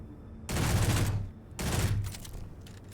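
Gunfire in the video game Conflict Europa, heard as two loud bursts of rapid, sustained shooting, each lasting roughly a second, separated by a brief lull.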